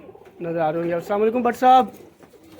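Breeder pigeons of the Kasuri kamagar type coo in low, rolling calls close by, mixed in with someone speaking a greeting over them.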